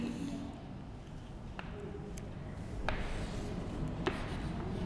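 In an English grammar class, chalk or a marker writes out a sentence on a board. A few soft taps and strokes stand out faintly against a quiet, even room background.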